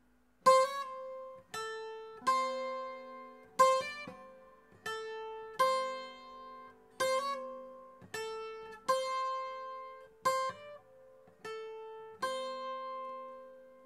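A requinto guitar picks the same phrase slowly, about a dozen separate plucked notes spaced evenly, each ringing out and decaying before the next, close and alone.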